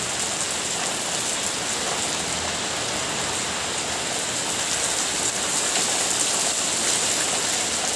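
Steady moderate to heavy rain falling, a dense even hiss of drops on surfaces that continues unbroken at a constant level, with no voices.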